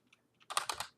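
Computer keyboard typing, a few faint taps followed by a quick burst of several louder clicking keystrokes close by, with no talk.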